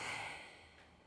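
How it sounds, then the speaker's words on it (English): Slow, soft exhale through the nose during yoga breathwork, a breathy hiss that fades gradually over about a second, close and quiet with no talking. "And then exhale through your nose."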